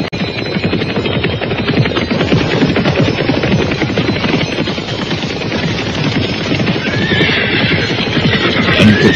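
Horses of a mounted troop of soldiers neigh and whinny repeatedly over a dense, continuous rumble of hooves and movement, loud and close throughout the whole stretch without any speech.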